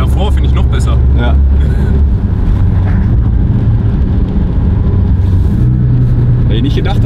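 Abarth car engine droning loudly on a wet race track at Bilster Berg during a rainy trackday, a continuous rumbling engine note with shifting pitch, heard alongside people talking.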